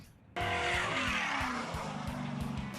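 An off-road race truck engine roars to life and screams at high revs above 6,000 RPM, loud and sustained, with a tire squeal edge.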